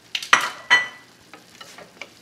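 Onions fry in a pan while being stirred, with a few sharp scraping strokes early on, then quieter intermittent scrapes over a faint sizzle.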